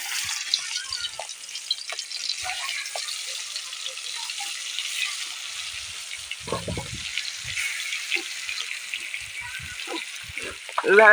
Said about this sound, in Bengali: মাছ তুল দেবে আর ভেজে নেবে ভালোভাবে